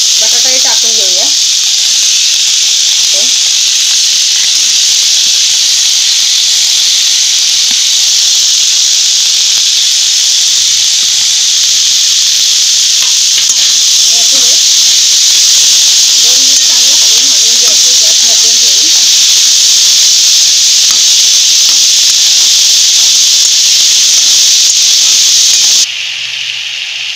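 Soaked chana dal roasting in a pan over medium heat, stirred for a couple of minutes, gives a steady loud sizzling hiss throughout with faint scraping and occasional voice in the background.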